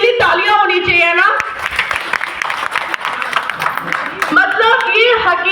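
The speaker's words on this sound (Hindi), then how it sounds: "तो इसके लिए तालियां होनी चाहिए ना।" An audience at a product promotion event bursts into a few seconds of clapping and applause between stretches of someone speaking through a microphone, the claps fairly close and lively.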